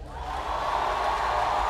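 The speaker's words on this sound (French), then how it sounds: "Applaudissez pour le président du Gabon." A large crowd at a presidential swearing-in ceremony in Gabon cheers and applauds, a dense continuous roar of voices and clapping swelling slightly.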